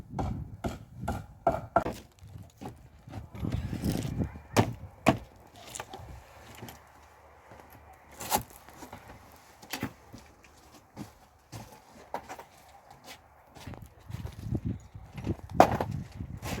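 A homemade wooden structure is broken apart with repeated sharp wooden cracks, knocks and splintering blows, irregular and close, with quieter pauses between bursts of impacts.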